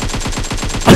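AKM assault rifle firing fully automatic in PUBG Mobile: a loud, rapid burst of about nine evenly spaced shots in one second, close and punchy, ending in a heavier blast.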